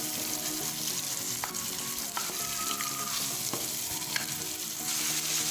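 Chicken fries in masala in a pan for aloo murghi, giving a close, steady sizzle with occasional stirring clinks and scrapes, with no voices.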